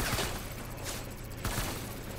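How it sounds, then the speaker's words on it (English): Assault rifle fire in the Death Stranding video game comes as a few quick bursts of muffled shots over a dense, noisy background. "Let's go assault rifle."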